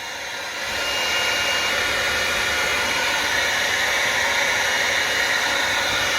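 A heat gun blows steadily while warming a Derbi Euro 2 engine casing so a bearing can be fitted, a loud, even airy roar that swells up in the first second and holds constant, with no talk.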